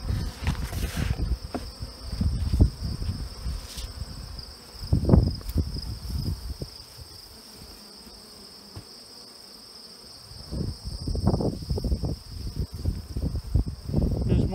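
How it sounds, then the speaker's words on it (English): Bees buzz around hive boxes, a dense close drone with individual insects zipping past the mic, easing off in the middle before swelling back loudly. "Here, definitely bees still in the boxes."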